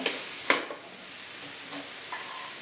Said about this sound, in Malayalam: ഉള്ളിയുടെ ആ പച്ചമണമൊക്കെ ഒന്ന് മാറുന്ന വരെ നമുക്കൊന്ന് ഇളക്കി കൊടുക്കാം.